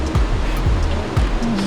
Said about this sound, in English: You hear that river just roaring behind.